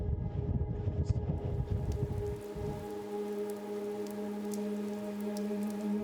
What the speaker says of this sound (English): It's raining and we've just lost the sun